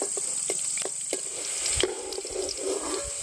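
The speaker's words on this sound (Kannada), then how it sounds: "ಅದು ಹಸಿ ಮೆಣಸಿಕಾಯಿ. ಮೆಣಸಿಕಾಯಿ ಫ್ರೈ ಆಗ್ಬೇಕು ಮಗಳೇ." Green chillies fry in hot oil in an outdoor village kitchen, a close steady sizzle with light crackles and stirring clicks throughout, no talking.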